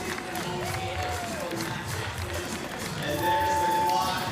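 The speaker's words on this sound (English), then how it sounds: "you hear from this crowd who's, by the way, storming over to this course right now" At an X Games skateboarding event in Ventura, a large outdoor crowd roars and cheers in a steady, dense wash that runs under continuous commentary.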